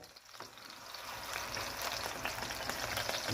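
Eggplant omelette (tortang talong) fries in a pan, a soft, continuous sizzle that builds slightly and holds steady, fairly quiet and with no talk over it.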